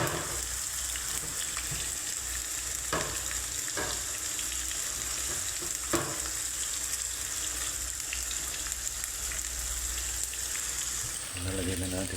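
Moringa pods frying with tomatoes in a pan, a steady close sizzle with occasional scraping knocks from a utensil stirring the mixture.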